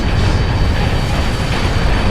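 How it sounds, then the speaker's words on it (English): A massive explosion in the combat flight game Ace Combat Infinity, heard as a dense, continuous low rumbling roar that stays loud and steady throughout, with no talk over it. "That big explosion"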